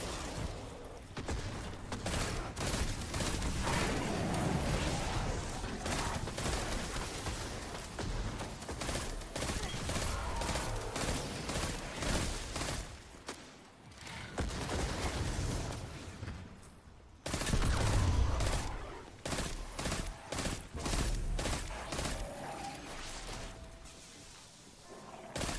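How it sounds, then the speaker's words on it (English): Rapid, dense gunfire from the video game Destiny 2, continuous bursts and fusillades pounding loudly for most of the stretch, with a brief drop around the middle before firing resumes, booming layered explosions and roars underneath. "that is a awful rate of fire"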